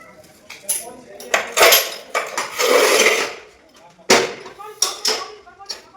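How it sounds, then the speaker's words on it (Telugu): A manual, non-electric tile cutter working on floor tiles, giving a series of sharp clanks and scraping scores, with a longer grinding pass in the middle, heard close and loud in bursts separated by pauses. "ఇప్పుడు నేనైతే కరెంట్ లేకుండా ఈ మిషన్ అయితే కట్ చేస్తాను."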